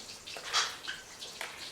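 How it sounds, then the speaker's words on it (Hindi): Cooking oil trickles into a wok in a soft, brief pour with faint splashing and dripping, close and quiet, with no voices. "कढ़ाई चढ़ा लेंगे और इसमें अब थोड़ा कुकिंग ऑयल डालेंगे"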